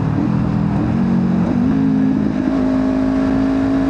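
A Kawasaki Ninja 500 motorcycle engine rises and falls in pitch as it revs to match a downshift, loud and close, with a steady road and wind roar beneath it and no talk.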